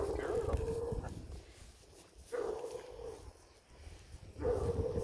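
A three-year-old female purebred Bluetick Coonhound lets out three deep, drawn-out, bawling barks spaced about two seconds apart outdoors, with people talking nearby.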